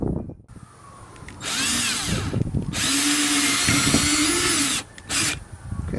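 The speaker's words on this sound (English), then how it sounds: "I drill my pilot hole first, screw the first screw, and then go around the bracket." A power drill bores a pilot hole for a fish finder bracket on a Bass Tracker Pro 170 boat, whining loudly in two long bursts with a short burst after, preceded by quieter handling noises.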